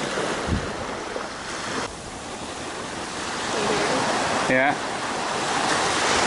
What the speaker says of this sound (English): And now we're just walking the beach.